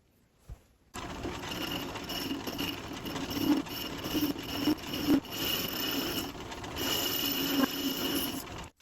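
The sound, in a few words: metal lathe facing end of carburetor adapter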